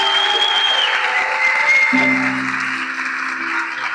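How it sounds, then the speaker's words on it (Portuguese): Applause breaks out during a church service at Lagoinha Taguatinga, steady and fairly loud throughout, with sustained musical tones entering about halfway under the clapping. "Uma salva de palmas para esse casal, em nome de Jesus."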